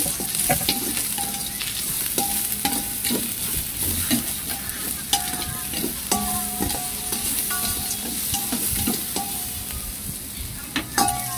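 Garlic, onion, ginger and green chili sautéing in a pan, a loud continuous sizzle up close, broken by frequent metal spatula scrapes and clinks.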